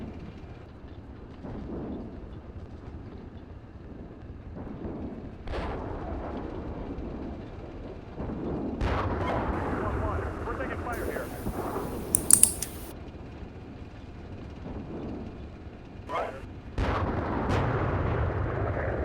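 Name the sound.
artillery fire mission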